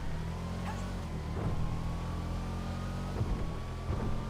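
A modified Sultan RS car in a video game drives with a steady engine drone and quick gear shifts marked by brief dips and bursts, all fairly loud and continuous, with no talking.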